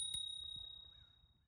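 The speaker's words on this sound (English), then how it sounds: "It also has a nice bell in the front that rings twice every time you hit it" A front-mounted bell on a MagiCycle electric bike rings with a bright, sustained ding, its tone lingering and slowly fading over a faint low background.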